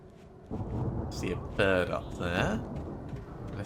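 In the Alan Wake video game, a bird lets out two harsh, drawn-out caws close by over a low rumbling ambience.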